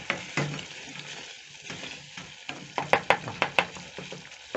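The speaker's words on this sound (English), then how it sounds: "we just basically have to wait for it to simmer for a few minutes" Beef paste simmering and sizzling in a pan, a continuous close frying hiss with a quick series of loud scraping stirs and clinks toward the end.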